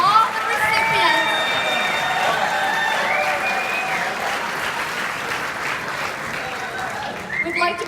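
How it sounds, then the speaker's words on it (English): An awards-ceremony audience applauds recipients, dense sustained clapping that fills the hall for several seconds, with a few cheers and voices mixed in and a faint tone running through it. "Give him a big round of applause."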